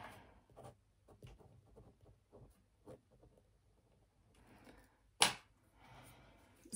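Pen scratching on paper while song lyrics are written down, faint irregular strokes and taps in short bursts, with one sharper knock near the end.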